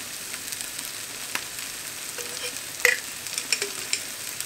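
Dijon mustard being stirred into a flour-and-stock sauce in a pan: a quiet, soft scraping of a spoon with a few light clinks against the pan, low and fairly steady.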